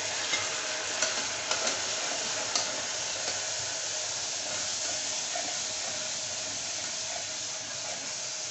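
Potatoes and cauliflower fry in oil with cumin, giving a steady close sizzle and hiss throughout, with a few light clinks of a stirring utensil early on.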